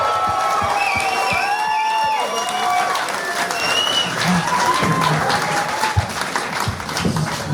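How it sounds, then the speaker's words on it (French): Studio audience at a televised talent show in Quebec breaking into loud applause, with whistles and cheering rising over the clapping, then fading into scattered claps and crowd noise. "un tonnerre d'applaudissements pour Richard Jette Sirois!"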